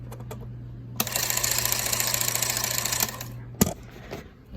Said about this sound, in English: You can see the motor run.